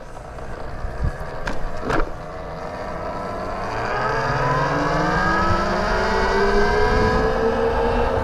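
A 15kW RAWRR Mantis X Pro electric dirt bike rides off in eco mode: after a few light knocks, a smooth motor whine rises steadily in pitch and loudness as it accelerates, close by, with no voices.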